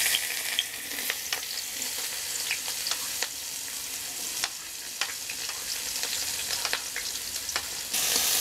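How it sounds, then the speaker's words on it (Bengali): Chopped onions frying in oil for a vegetable biryani, a loud continuous bright sizzle with occasional clicks and scrapes of stirring. "আমি এখন তেলের মধ্যে দিয়ে দিচ্ছি পেঁয়াজ কুচি।"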